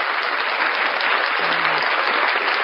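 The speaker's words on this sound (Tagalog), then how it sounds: "Ang palakpak." Dense, steady applause from a group of people, continuous and fairly loud throughout with no voices standing out.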